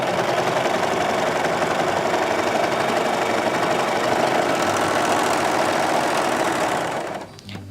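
Sewing machine (serger) running steadily, its differential feed at maximum and stitch length at longest to gather fabric; a continuous, loud mechanical whir with rapid stitching rhythm that slows and stops near the end.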